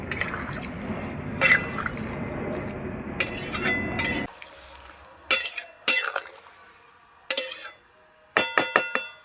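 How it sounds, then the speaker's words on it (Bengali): Water is poured into a pan of spice-fried potatoes for a katla fish curry. A steady pouring wash lasts about four seconds, then scattered metallic clinks of utensils and pan follow. "এবার জল দিয়ে দেবো"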